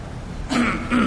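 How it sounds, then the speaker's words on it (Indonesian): A person clears their throat twice in quick succession. The two short, close, voiced rasps are heard alone. "sekalipun dengan ngedehem, sekalipun dengan ngedehem"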